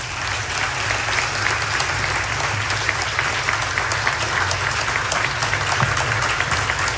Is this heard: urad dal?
no